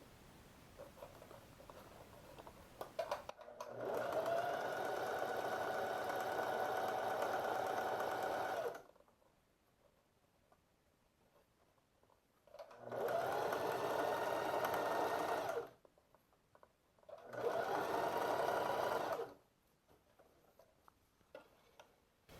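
A sewing machine stitches elastic onto shorts in three steady, close runs of rapid mechanical whirring, separated by quiet pauses with faint handling sounds.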